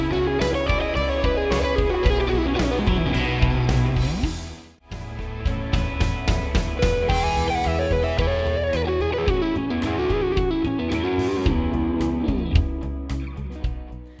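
Distorted electric guitar licks, played with effects, fluid bends and quick runs, a brief pause near the middle before a second phrase, with no talking.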